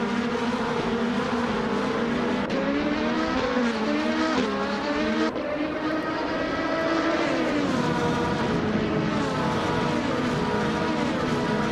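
Indy Lights 2014 Dallara IL-15 race cars in a sim racing game, a loud, continuous high-revving engine whine that rises and falls in pitch with gear changes, several cars blending together.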